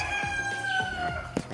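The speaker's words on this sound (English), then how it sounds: "chicken farm that I'm visiting right now" Chickens on a farm cluck and crow close by, a rooster's call sounding over scattered clucks and background farm noise, with a voice faintly present.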